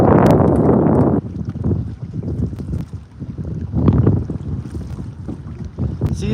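Strong wind buffets the microphone on a lake while fishing from a boat, roaring loudly and steadily in heavy gusts with no one speaking.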